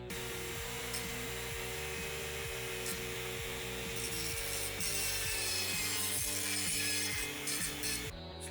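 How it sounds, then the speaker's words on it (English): A rotary tool with a sanding drum grinds a small model chair part for a Star Trek TOS captain's chair, a continuous high whine with a rhythmic rubbing pulse, fairly quiet and steady throughout, no speech. "rotary tool sanding drum"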